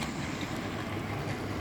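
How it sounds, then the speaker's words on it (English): A model railway Class 66 locomotive runs past with a soft, continuous rumble and light rolling clatter of wheels on track, faint and steady with no talk. "There's the Class 66 again."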